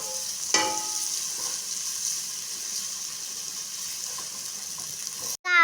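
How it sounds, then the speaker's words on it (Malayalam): Onions dropped into a hot pan and stirred in a kitchen while cooking biryani, a steady close sizzle with a sharp hiss as they go in and light scraping of stirring, no talk. "ഇനി ഒണിയനും കൂടി നമുക്ക് ഇട്ട് കൊടുക്കാം. ഒന്ന് കളറ് മാറുന്ന വരേക്കും ഒന്ന് ഇളക്കി കൊടുക്കാം"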